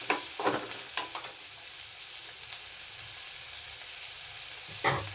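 Green chillies and onions sizzle steadily in hot oil while being stirred for spicy puffed rice, a soft continuous crackle with a few scraping clinks of a spoon.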